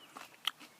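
Someone biting into a fresh garden pea outdoors, giving a few faint, close crunches and a sharp snap midway, with no talk over it.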